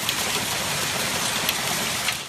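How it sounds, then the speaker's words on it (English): Golf-ball-sized hailstones pound down during a thunderstorm in Plano, Texas, a dense, loud, continuous hiss and clatter with no pauses or voices. "The powerful system produced a torrential hailstorm in Plano."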